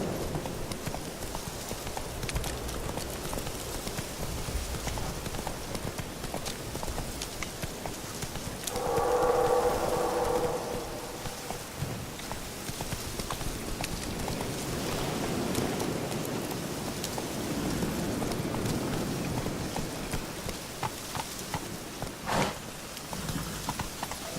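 Horse hooves clip-clopping in The Witcher 3: Wild Hunt as a mount gallops, a steady rhythmic patter running the whole time under game ambience and music, with a brief tonal swell partway through.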